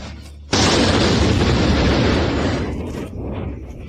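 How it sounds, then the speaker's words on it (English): A sudden loud explosion in the Moscow region bursts in as a boom and rolls on as a sustained, rumbling roar for a couple of seconds before slowly tapering off. "explosions in Moscow"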